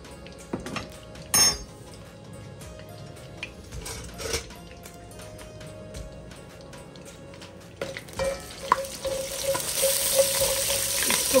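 Fenugreek seeds and mustard seeds fry in a pan alongside white cumin for a Punjabi pakora kadhi, heard as intermittent metal clinks and spoon taps over a faint sizzle that swells into a louder steady frying hiss near the end.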